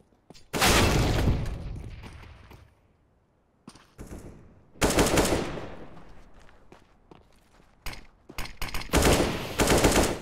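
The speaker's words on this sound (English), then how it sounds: "Deploying flashbang. Grenade out." Bursts of loud, close gunfire in a shooter video game come in several rapid volleys separated by short quiet gaps, with a sharp flashbang-like crack and scattered impacts among them.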